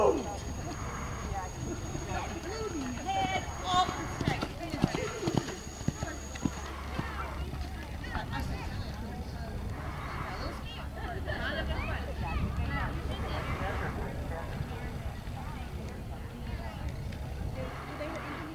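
A horse canters through a flat riding class, its hoofbeats a steady, fairly faint clip-clop in an open arena, while a voice calls out instructions and other people talk in the background.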